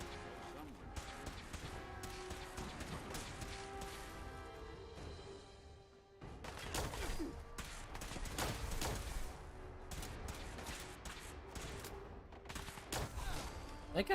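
Fallout 4 combat at Far Harbor: scattered gunshots and crashing impacts over a steady game backdrop, with a sharp gap near the middle before louder bursts resume, a player talking over the action.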